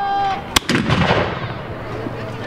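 A 15th-century-style medieval hand gun fired during an outdoor skirmish demonstration: a single loud, sharp blast followed by a long rumbling echo fading over about two seconds, with a brief voice just before the shot.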